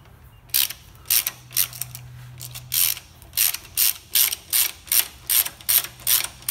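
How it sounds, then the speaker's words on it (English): A hand ratchet clicks in quick, steady bursts while tightening bolts on a Toyota Prado rear suspension, close and loud with no talking, each stroke a crisp run of pawl clicks repeating about twice a second. "Or you can get your ratchet, you know, and you can go."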